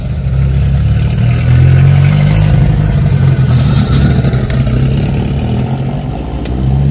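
A car with a loud exhaust mounted ahead of the front wheel rumbles past on an avenue, a deep, heavy engine drone that swells and holds loud, then eases slightly as it moves on.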